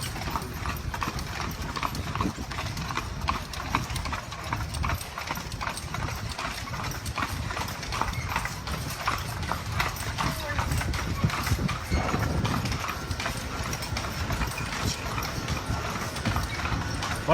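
A horse pulls a buggy along Royal Street in New Orleans, its hooves clip-clopping steadily and close on pavement, with a running engine hum in the background and people talking over it.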